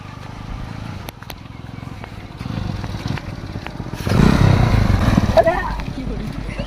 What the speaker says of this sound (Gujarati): અલ્યા કનું બાઈક લઈને આવ્યો